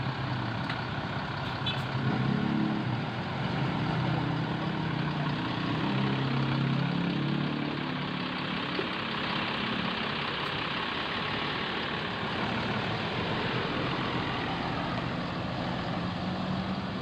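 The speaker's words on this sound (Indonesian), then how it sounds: "Bus ini menggunakan sasis Mercedes-Benz dan karoseri Adiputro." A Mercedes-Benz-chassis bus with Adiputro bodywork idles at Bekasi terminal, a steady low diesel rumble under broad terminal noise, continuous and fairly loud.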